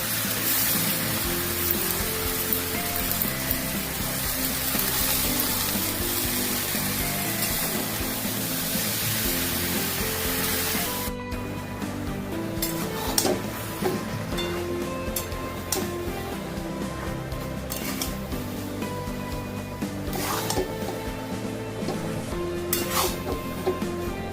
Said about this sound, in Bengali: এবারে পুঁই শাক পাতাটা দিয়ে দিচ্ছি।